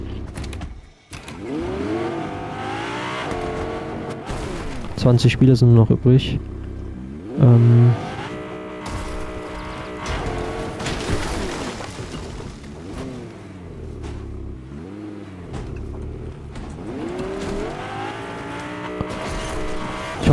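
A car drives in Fortnite, its engine rising and falling in pitch as it revs and shifts, with loud bumps and knocks partway through, while a voice talks over it and an in-game announcement is heard.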